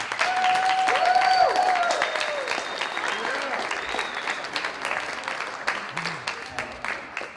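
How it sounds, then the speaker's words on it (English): An audience at a high school pitch night applauds the parents, with dense clapping that swells early and gradually tapers, while a voice or tones are briefly heard over it. "And I think they deserve a round of applause as well."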